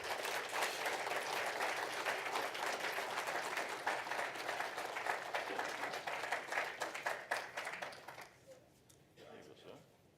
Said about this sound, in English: So how about a round of applause for SaskPoly?